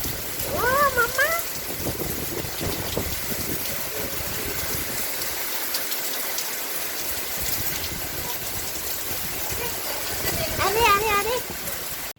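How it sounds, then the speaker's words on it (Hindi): Heavy, dense rainfall with gusting wind roars steadily throughout, a broad wash of noise, while a person exclaims briefly near the start and end. "बहुत खतरनाक बारिश हो रही है"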